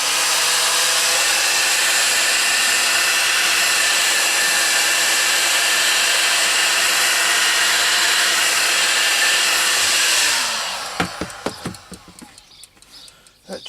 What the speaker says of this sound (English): I just put the old heat gun on it a bit.